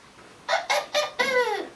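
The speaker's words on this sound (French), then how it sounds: "Le coq s'est levé le premier. Il chante et réveille tout le monde." A rooster crows close and clear in a farmyard cartoon setting, a short burst of three quick calls rising into a longer drawn-out final crow.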